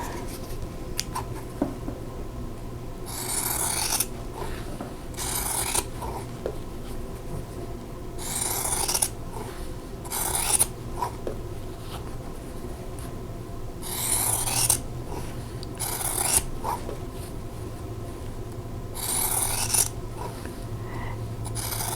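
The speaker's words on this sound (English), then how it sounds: "I'm going to cut these apart and then cut on that drawn line." Scissors cut apart pieces of quilt fabric in repeated short bursts of crisp snipping and rasping, each lasting a second or so, separated by quiet pauses in a calm indoor room.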